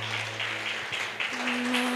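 A church congregation claps together during a Pentecostal-style altar call, a steady wash of hand clapping held at even loudness, with sustained keyboard tones running underneath.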